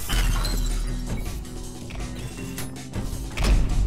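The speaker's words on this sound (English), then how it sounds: "I can break glass." Glass shattering in the video game ULTRAKILL, a burst of breaking crashes heard amid dense, loud game noise with mechanical clanks, with a second crash near the end.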